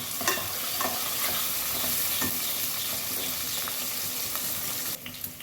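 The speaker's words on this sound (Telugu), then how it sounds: "ఇదిగోండి జీడిపప్పు, కరివేపాకు, ఇవన్నీ బ్రౌన్ కలర్ వచ్చే వరకు వేయించాలి." Cashews and curry leaves fry in a pan with a steady, close sizzle, broken now and then by the scrape and clink of stirring. No one talks.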